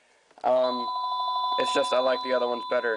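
A mobile phone rings with a steady electronic tone that keeps going under someone talking nearby.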